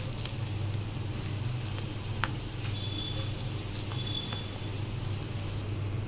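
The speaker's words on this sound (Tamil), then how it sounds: "நல்லா இப்படி மெல்லிசாக தட்டுங்க." Hands patting akki roti, a thin rice-flour dough flattened with wet fingers, give soft, faint, steady patter and light taps over a low background hum.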